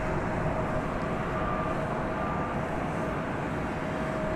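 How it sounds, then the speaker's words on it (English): A Beechcraft 1900C propeller plane at an airport at night, a steady distant engine drone with a faint sustained tonal hum, continuous and even throughout with no talk. "Oh, maybe it's a prop plane."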